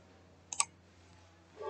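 Computer mouse used while editing Google Forms gives a quick double click, faint and close, in an otherwise quiet room with a low hum.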